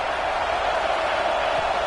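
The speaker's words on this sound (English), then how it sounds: "And here comes the noise. This crowd is trying to inspire this defense to make a big red zone stop" A Penn State football stadium crowd roars steadily, urging the home defense toward a red zone stop; the dense, even wash of noise holds without pause and no one speaks.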